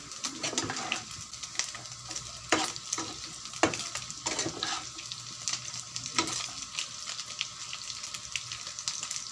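Chicken chicharon sizzles steadily in a hot pan while a utensil stirs it, scraping and clattering in irregular strokes over a constant crackling fry, close and fairly loud.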